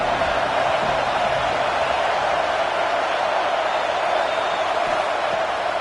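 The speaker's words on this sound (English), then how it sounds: "Here comes the noise from this big crowd in Happy Valley on 3rd down." Simulated stadium crowd noise in a college football video game at Happy Valley on third down, a steady dense roar of many voices holding loud and unbroken throughout.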